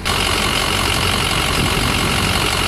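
A Ford Super Duty truck with a 5R110W transmission idles in park, its engine a steady, continuous rumble at close range with no variation and no talking.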